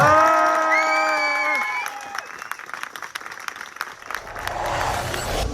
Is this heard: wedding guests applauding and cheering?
yes